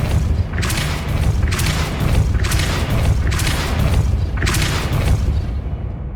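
A Depulso spell is cast repeatedly in the Hogwarts Legacy video game, giving four loud, evenly spaced whooshing blasts over a constant low rumble, each burst rising and fading within about a second.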